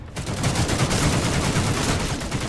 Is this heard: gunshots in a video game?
yes